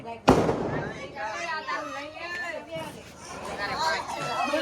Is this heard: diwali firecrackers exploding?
yes